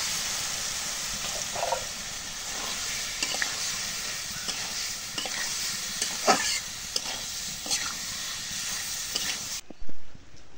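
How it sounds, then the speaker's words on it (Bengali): Soya chunks fry with spices in a pan, making a busy sizzle broken by scraping and stirring clatter, then a louder clunk just before the sound cuts out. "মশলা কষানোর আগে সয়াবিন বড়িগুলো দিয়ে দিই"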